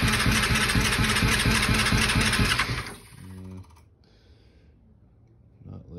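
A carbureted 2000 Yamaha R6 engine on a little choke cranks and runs roughly for about three seconds, close and loud, then stutters and dies, leaving quiet background.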